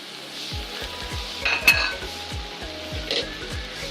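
Arvi and potatoes with capsicum get stirred in a pan, a metal spoon scraping and clinking against the pan in repeated strokes over a soft sizzle of frying.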